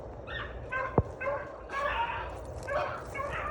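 Hunting hounds chasing a rabbit bay repeatedly in the distance, long drawn-out cries overlapping one another, with a brief sharp click partway through.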